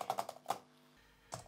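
Keys are struck on a computer keyboard in a quick burst of four clicks, then a pause, then another clack, close and fairly quiet in a still room.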